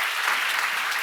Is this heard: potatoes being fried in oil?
no